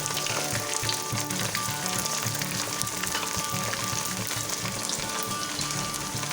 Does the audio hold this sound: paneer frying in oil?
yes